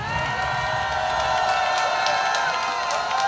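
A rally crowd protesting alleged election fraud bursts into steady applause mixed with cheers and whoops, a loud unbroken wall of clapping and shouting that carries through the whole moment.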